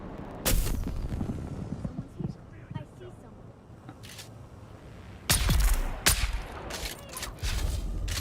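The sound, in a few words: gunfire in the Dune video game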